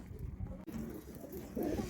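Pet pigeons covered with a cloth curtain to keep them from the cold coo softly in low, muffled murmurs. The sound is quiet and steady, with no talking.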